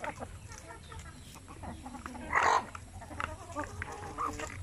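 Free-ranging native chickens cluck at a breeder farm, a soft busy background of clucks with one louder call near the middle, against steady outdoor ambience.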